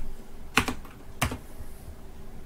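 Two quick, close keystrokes on a computer keyboard while editing a command in the Windows command prompt, crisp and isolated against a quiet background.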